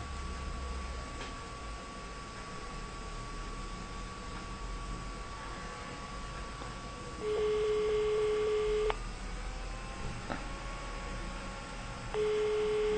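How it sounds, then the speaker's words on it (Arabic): A landline telephone ringing tone sounds during an outgoing call, two long steady tone bursts over constant line hiss and hum, with no voices. "لا أعرف هل تسمع صوت رنين الهاتف المنزلي"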